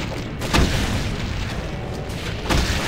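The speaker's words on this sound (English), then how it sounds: "I'm gonna just fire grenades down there" Grenade blasts in Doom, the Plutonia Experiment with a brutal mod, co-op: a loud, booming burst early on and another near the end over a dense, roaring rumble of continuous noise.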